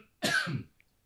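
One short, sharp cough sounds close by in an enclosed recording room, alone with no talk around it.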